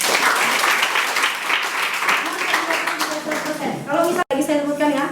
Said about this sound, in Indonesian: Tepuk tangan untuk Oli.